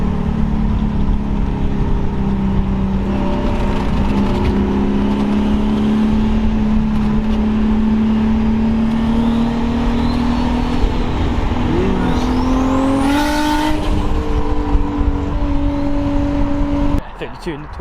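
A Nissan R32 GTS-T tears through city streets at night, its engine droning loud and close as it pulls hard through the gears, pitch climbing steadily before a shift, with occupants chatting over the noise.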